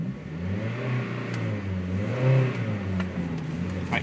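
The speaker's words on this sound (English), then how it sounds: "you don't want excessive clutch slipping" A manual car's engine revs and holds at raised speed during a poor launch from a stop with heavy clutch slipping, a steady mid-pitched drone that swells slightly and then settles, heard close with no talking.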